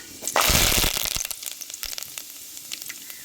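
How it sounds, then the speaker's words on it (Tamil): Fenugreek seeds and curry leaves hit hot oil with a loud burst of sizzling and crackling that quickly settles into a lighter, popping fry. "ரெண்டு வெந்தயம் போட்டுக்கிறோம் ரெண்டு கருவேப்பிலை போட்டுக்கிறோம்"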